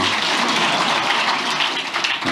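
Dense, continuous clapping from an audience of civil servants at a talk by President Lee Jae-myung, a close, steady rush of many hands that runs throughout with no speech over it.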